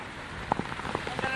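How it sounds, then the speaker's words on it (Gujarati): Heavy, unrelenting Cyclone Biparjoy rain falls in Gujarat amid strong wind, a dense nearby downpour hiss broken by several louder splashing knocks. "વરસાદ જે છે અવિરત પડી રહ્યો છે"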